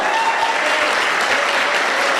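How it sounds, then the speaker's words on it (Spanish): A church congregation breaks into sustained, dense applause, loud and close, with many hands clapping continuously and no talk over it. "si le vas a dar un aplauso, dáselo bien, por favor"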